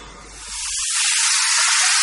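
A steam train on the Isle of Wight lets out a steady, loud hiss of escaping steam that swells after a low rumble fades, continuing alone without voices.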